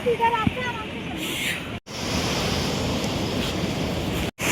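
A mountain waterfall near Manali roars as a steady, broad rush of water, loud and close, mixed with wind buffeting the microphone, with two brief dropouts and no clear talk.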